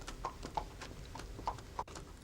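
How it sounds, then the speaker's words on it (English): Horse hooves clip-clop at a slow walking pace as horses are led from a mill house into the fields, several distinct knocks spaced irregularly over a steady outdoor background. "Watch the new horses at the mill house being taken out into the fields."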